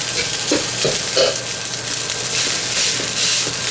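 Day-old rice for kimchi fried rice sizzling in a pan, with soft scraping stirs against the pan and a steady frying hiss throughout, close and alone with no voices.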